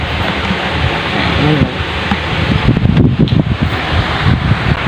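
Steady rain with gusty typhoon wind roaring on a fishing trip, a dense constant wash of noise with some muffled voices and rustling underneath.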